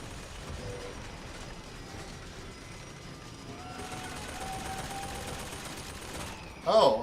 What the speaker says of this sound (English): I don't even see where I'm being shot at.